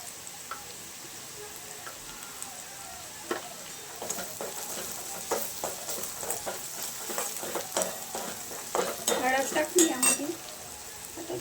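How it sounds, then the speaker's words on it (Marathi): Onion frying in a pan as turmeric is stirred in, a steady close sizzle broken by a run of rhythmic spoon scrapes and taps against the pan. "कांदा परतून झाला यामध्ये आपण थोडीशी हळद टाकून घेऊया"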